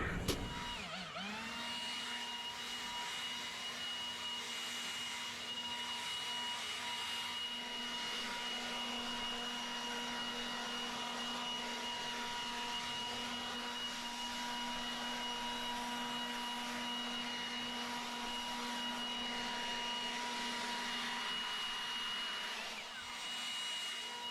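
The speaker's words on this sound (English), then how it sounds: "we are going to be blowing the yard with the Milwaukee fuel brushless blower" A Milwaukee Fuel brushless battery leaf blower clears a backyard yard, spinning up quickly and then holding one continuous, even, close whirring roar for over twenty seconds, easing briefly near the end.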